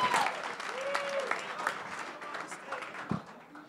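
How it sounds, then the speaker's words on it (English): Applause from an evening audience at a startup pitch event at Atlanta Tech Village, a light, brief round of clapping under a voice speaking over it. "Warm round of applause for the Container Box."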